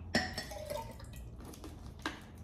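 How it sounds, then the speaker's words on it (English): A cup is rinsed with a small splash of cold water while camping in the field with British 24-hour combat rations: a sharp splash, a few light drips and clinks against the cup, then a brief second splash near the end. "I'm gonna rinse this cup like we're in the field."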